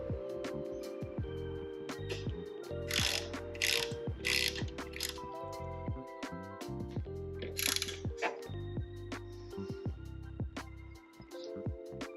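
A ratchet with a 1/2 inch socket works bolts on a motorcycle fairing, rapid close clicking in repeated bursts with pauses and metallic clinks between strokes.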